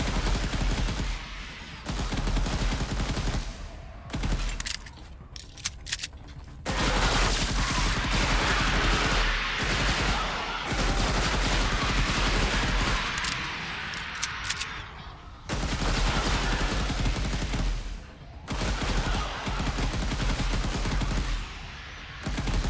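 Rapid bursts of automatic gunfire and heavy shooting in the video game Ghostship Chronicles, loud and dense, broken by a few short pauses, with no talk over it.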